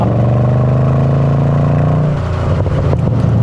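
A naturally aspirated 6.2-litre V8 in a Mercedes ML63 AMG revs loud and close, its deep burbling note holding steady and then dropping into a rougher, crackling idle.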